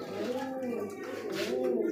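A female pigeon in a pigeon-seller's loft coos in a low, rolling, continuous murmur at close range, with other birds and people talking faintly around it.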